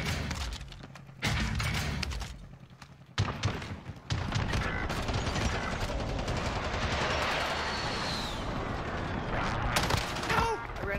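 Gunfire in the video game Warzone: dense bursts of automatic shots and heavy booms, loud and close, with short gaps between volleys.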